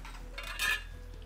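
A utensil scrapes and clinks in a pan while an okra omelette cooks with red pepper and garlic, one brief metallic stirring stroke over a quiet low hum.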